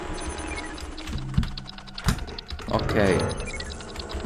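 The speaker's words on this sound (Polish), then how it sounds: "I słyszycie zapewne moją okropnie głośną klawiaturę." A loud computer keyboard clacks in quick, uneven bursts of keypresses, close and prominent, while someone speaks briefly and game sounds play in the background.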